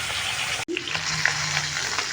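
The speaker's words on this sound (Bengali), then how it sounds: "তাহলে মাছটা ভালো করে ভাজা হোক ততক্ষণে।" Catla fish pieces sizzle and crackle in hot mustard oil in a pan, a steady close frying hiss with scattered pops after a brief dropout, no talking.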